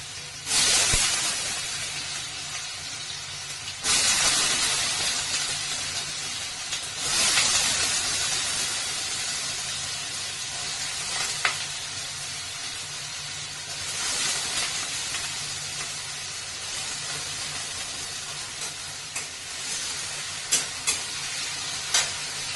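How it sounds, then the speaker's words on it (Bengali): Potatoes frying in hot oil, a steady loud sizzle and hiss with surges as pieces go in and are stirred, running continuously without any talk. "তেলটা মোটামুটি গরম হয়ে গেছে, এবারে আলুগুলো আস্তে আস্তে ছেড়ে দিই।"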